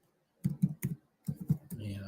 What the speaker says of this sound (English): I'm having to type on a keyboard on the laptop